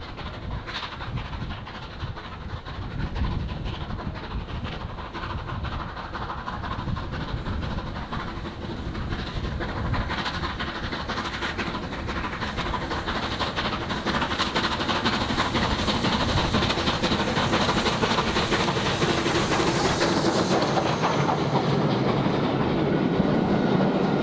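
A British India Line steam locomotive runs past with a steady rumble and rhythmic clickety-clack of wagons, growing louder and closer over the clip near Lunds Viaduct outside Garsdale Station.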